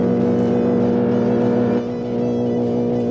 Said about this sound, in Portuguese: tem um cara acelerando aqui